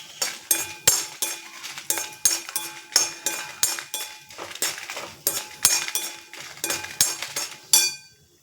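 A metal spoon scrapes and clinks rhythmically against a pan while dried red chillies are dry-roasted for banana flower podi, sharp close knocks repeating about twice a second with no talk.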